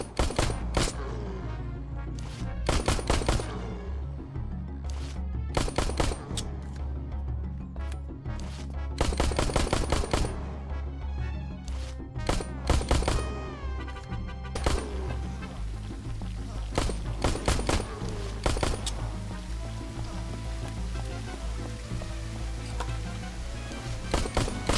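Bursts of gunfire in the SurrounDead survival shooter video game as a player hoses down an infestation, loud rapid volleys in repeated clusters with short pauses between them, and pistol-like shots sounding alone over a low game backdrop.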